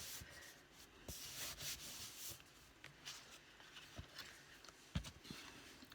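A paper greeting card turned face down and rubbed on its back during black-and-white card making, a steady close scrubbing and rustling with a few sharper taps, alone without talk.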